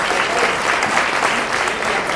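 Dense applause from a crowd at a makeathon awards event fills the room, steady and loud throughout.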